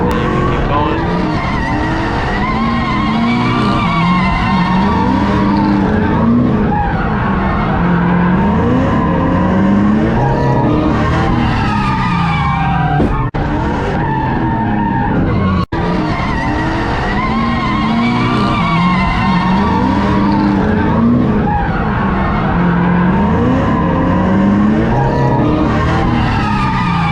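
Drifting car on a race track, continuous loud engine roar with long tire squeals and skidding throughout, close and sustained, with talk over it.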